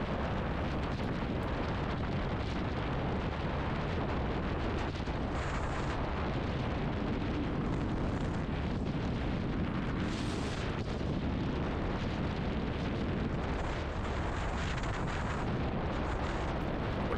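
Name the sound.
Kawasaki W800 Cafe motorcycle riding on highway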